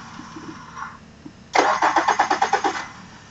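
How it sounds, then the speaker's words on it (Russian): A Yamaha outboard boat motor is cranked by its starter for about a second and a half, giving a fast, even rhythmic churning that stops without the engine catching, loud and close after a quiet stretch. "Двигатель не заводится."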